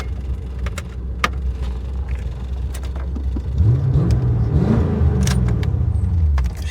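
A 1986 Chevrolet Corvette engine runs with a low steady rumble, rising into a louder revving swell partway through, heard close with light clicks and handling noises and no talk.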